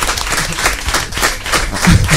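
Studio audience applauding the technicians at a radio studio event, a dense burst of clapping, loud and close, carrying on for the whole stretch with no talk over it.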